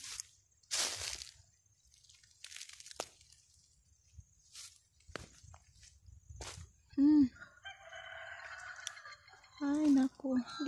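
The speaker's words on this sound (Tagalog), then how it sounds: "That's a kurawong." A currawong calls out in an Australian backyard orchard among apple trees, a few short, loud, ringing notes near the middle and again toward the end, with quiet rustling and faint sounds between the calls.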